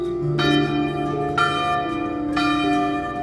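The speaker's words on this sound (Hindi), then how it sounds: "उसी समय गांव के मंदिर की घंटी अपने आप बज उठी।" A village temple bell rings out three times, each strike leaving a long, shimmering resonance that overlaps the next; loud and close, with no voices.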